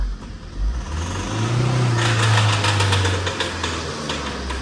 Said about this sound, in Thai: มีเสียงเขกฮะ